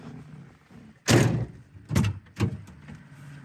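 The door of a 1973 Ford Mustang convertible shuts with a solid thump, followed by two more softer thuds close by, with no talking.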